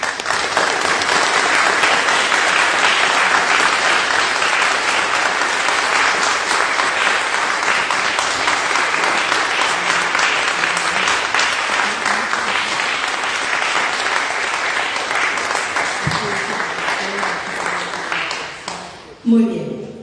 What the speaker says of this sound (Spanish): Un aplauso inmenso para usted.